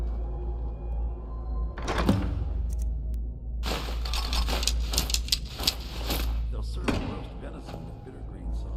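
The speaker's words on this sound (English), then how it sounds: "I'll lock the door behind you." In Skyrim, a door is shut and locked amid shuffling and heavy mechanical thunks and rattles, with game voices talking over parts of the scene.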